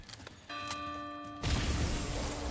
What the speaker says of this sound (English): Bell tolls.